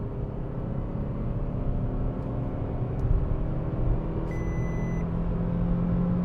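A Fiat Egea Cross with a 1.4 engine pulling uphill after a gear change, a steady droning engine rumble heard from inside the car, with constant road and wind noise and no talking.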